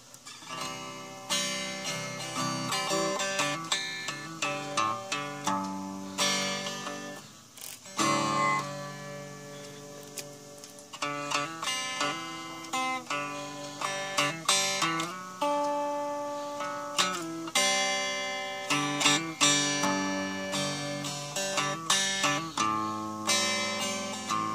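A clean, undistorted electric guitar played through a small tube amplifier, strummed chords and picked notes ringing clearly for about twenty-five seconds.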